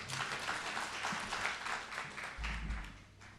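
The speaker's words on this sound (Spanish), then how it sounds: "Les pido un aplauso para el doctor José Adolfo Reyes Calderón." An auditorium audience applauds to welcome a doctor before his lecture on gangs and organized crime, with dense, steady clapping that continues for a few seconds at moderate volume.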